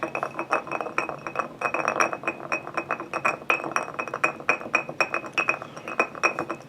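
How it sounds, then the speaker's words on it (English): A cork is worked back into a glass bourbon bottle, making a run of small, sharp glassy clinks and taps at close range, repeated irregularly throughout with no talking. "Putting the cork back on."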